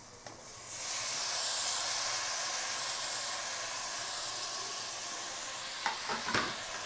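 Tomatoes, onion and green chilies hit hot oil for a mutton dum biryani base, and a loud steady hiss and sizzle rises at once and holds, with a few clinks of stirring near the end.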